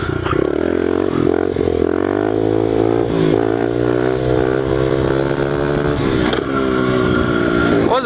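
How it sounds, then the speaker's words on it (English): A pit bike engine revs hard and loud through third gear wheelies, a raspy, steady high whine that climbs, dips briefly and climbs again without a break. "So I'm doing third gear wheelies."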